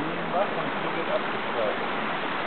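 A brook runs beside a romantic woodland path along the wild Endert stream, giving a steady, even rush of flowing water throughout, with faint traces of voices over it.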